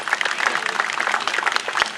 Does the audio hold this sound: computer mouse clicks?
no